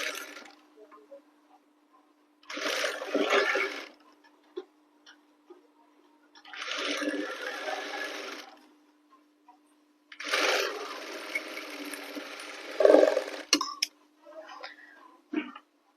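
A sewing machine stitches a blouse in three separate runs of a few seconds each, its rapid whirring stitch starting and stopping, with a faint steady hum and small clicks in the pauses between runs.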